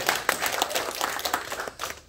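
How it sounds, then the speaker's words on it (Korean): A church congregation at a Sunday service gives a hearty round of applause, many hands clapping in a busy, continuous burst, close and fairly loud, with no speech. "우리 여성교회 위해서 우리 큰 박수로 감사합니다."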